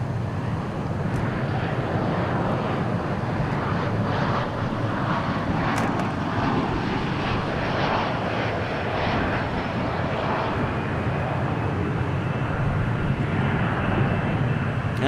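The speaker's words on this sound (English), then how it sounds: "Delta Airlines headed back west on an A320." A Delta Airlines Airbus A320 jet at Dallas Fort Worth sends out a continuous, fairly loud engine roar with a broad rushing texture, steady from start to finish and free of talk.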